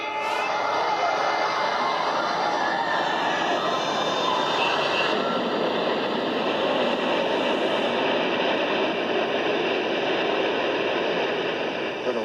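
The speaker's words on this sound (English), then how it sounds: "The North Tower came crashing down." Deep, continuous rumble from the North Tower collapsing on 9/11, a dense roar that holds steady for the full stretch without breaks, loud and wide with no clear individual impacts.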